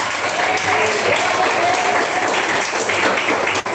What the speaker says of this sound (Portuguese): Madriana Santos, palmas e glória a Deus.